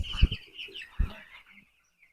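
A 12-day-old farm chicken carried out for weighing gives two short, close clucks about a second apart, then falls quiet.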